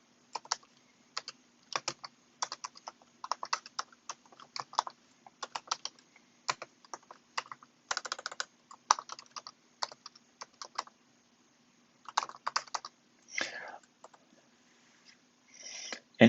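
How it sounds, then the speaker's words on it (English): Typing on a computer keyboard while entering a command to create a React application, with bursts of quick, close key clicks separated by short pauses and no talk. "To do that, I shall type out the following."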